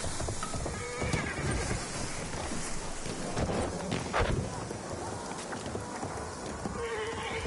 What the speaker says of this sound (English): The horse is so annoying sometimes.